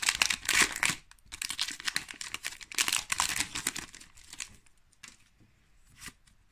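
A Pokémon card booster pack being torn open by hand; crisp crinkling and ripping of foil wrapper in several close bursts with short pauses between, no talking.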